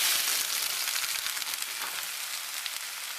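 Stir fry sizzles steadily in a hot pan, a close, bright hiss with small crackles and occasional stirring, with no voices.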